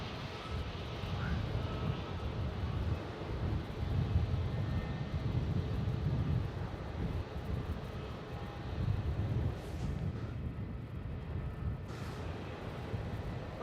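A Jetstar Airbus A320neo at Melbourne Airport produces a distant, low rumbling roar that swells and fades gently, with no talk over it.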